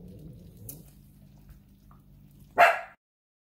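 A single sharp dog bark near the end, loud and close, after a stretch of quiet low room rumble in a kitchen.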